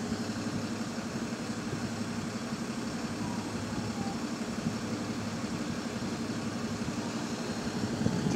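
A GAL bus, WHV186, working route 188, runs with a steady whiny engine drone, a constant mid-to-low mechanical hum that holds evenly throughout with no talk over it.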